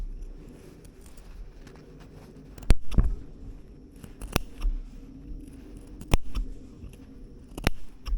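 Scissors snip through shirt collar fabric during sewing of a Simplicity 9758 men's shirt: several sharp, close cuts at irregular intervals over a soft background hiss.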